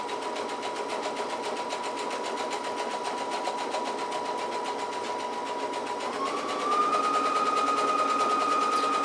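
A sewing machine with a circular attachment stitches a satin stitch, running in a fast, even mechanical whir that rises slightly in pitch and volume partway through, no speech.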